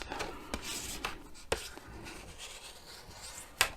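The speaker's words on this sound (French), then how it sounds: "bruit du pliage." Close, quiet paper rustling and creasing while folding an accordion pop-up card, with a few sharp crisp folds standing out among softer rubbing sounds, no talking.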